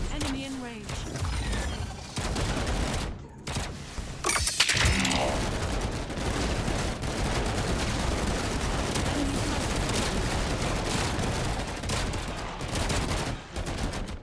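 Airstrike gunfire and explosions in the ZeroSpace real-time strategy game, a dense continuous rattle of rapid shots with heavier booms mixed in, loud and sustained throughout, with occasional speech faintly underneath.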